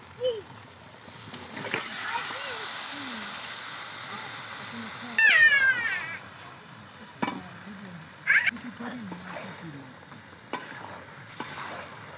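Meat tipped into spiced masala and stirred as it fries, a steady sizzle with scraping strokes and occasional knocks, outdoors at a picnic with faint voices and a cat meowing in the background.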